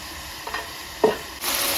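Cauliflower and potato fry in a pan with a soft, steady sizzle. Two light stirring clinks come first, then the frying hiss grows louder near the end.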